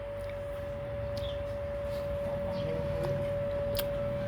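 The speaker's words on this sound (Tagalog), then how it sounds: "Tumutunog na yung sirena namin." A noon siren sounds in a village setting, holding one steady, sustained tone from start to finish, faint and far off over quiet background noise.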